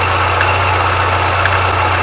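A car engine idling with knocking hydraulic valve lifters after an oil change, a steady close, loud running drone with faint ticking throughout and no talk.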